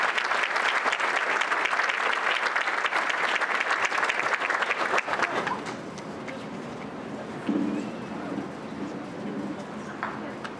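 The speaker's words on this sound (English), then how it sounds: "Give him a round of applause." Audience applause fills a room at a breakfast gathering, steady and dense for about five seconds before fading into quieter room noise and scattered sounds.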